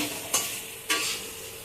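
Chicken liver fries dry in a pan with a low sizzle, interrupted by two sharp scraping stirs of a spoon against the pan, close and clear.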